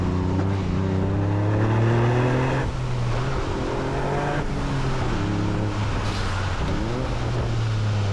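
A Toyota GR Yaris drifts through a corner, its engine note droning loud and steady with rising and falling harmonics as the throttle is worked, continuous for several seconds with a brief dip midway.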